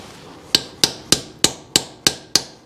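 Seven sharp metallic hammer taps, evenly spaced and close, strike a crossover being fitted onto a 1967 Camaro small block engine, each ringing briefly before the next.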